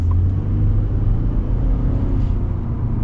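2024 Ford F-150 single-cab work truck with EcoBoost engine accelerating, a loud, steady low rumble and whir of the powertrain heard from inside the cab, with no talking.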